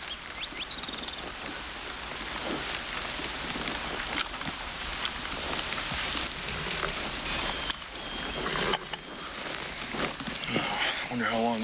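Steady rain falls on surfaces in a forest, an even hiss with scattered drops, while voices talk over it throughout.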